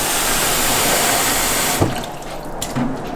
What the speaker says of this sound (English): So I just fill the sink with some water.